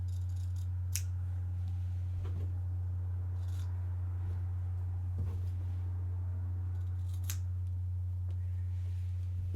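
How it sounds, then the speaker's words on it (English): Scissors trimming the fabric corners of a sewn tote bag pocket, a few faint, brief snips over a steady low hum in a quiet room. "I'm going to take my scissors and just trim off these corners, making sure I don't cut into the seams."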